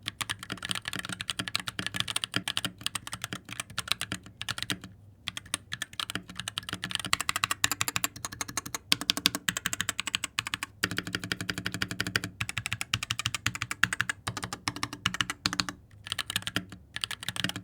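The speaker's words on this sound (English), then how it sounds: "those holy pandas make it feel incredible too. Like it's an enjoyable click of typing." Mechanical keyboard with Holy Panda switches typed at a steady fast pace, dense clacky keystrokes with brief pauses, close and clear with no talking.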